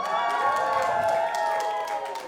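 Audience at a comedy club set in West Covina cheering and clapping, a steady wash of applause and whoops with faint voices mixed in throughout.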